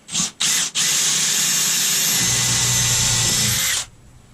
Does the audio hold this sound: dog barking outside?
no